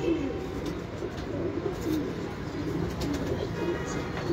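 Pigeons in a home loft coo repeatedly against a steady room background, soft low calls recurring every second or so at moderate distance.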